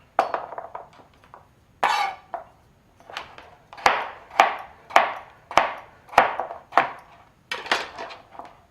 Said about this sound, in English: all I do is I cut it into cubes